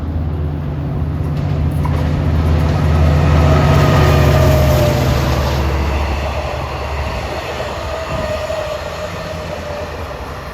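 A Long Island Rail Road train led by diesel locomotive D30AC 413 rolls past on track 1 at Woodside station, a loud steady low rumble with rail noise that swells, then eases as it continues by.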